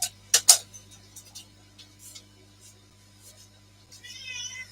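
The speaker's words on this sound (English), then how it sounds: "Pandora, we have kitties that want to go outside." Indoor cats let out a short rising meow near the end, after a few sharp clicks and thumps early on, over a low steady household hum, with no talking.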